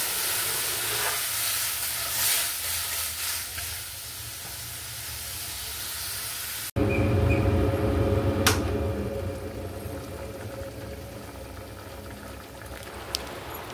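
Potato, pea and paneer curry simmering in a pan after water is added, giving a steady soft bubbling hiss and sizzle throughout, louder and fuller in the second half, with an occasional faint clink.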